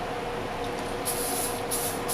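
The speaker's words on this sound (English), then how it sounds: "grab some of that vegetable oil cooking spray" Vegetable oil cooking spray hisses from a can onto hot cast iron cookware in several short bursts over a steady background rush.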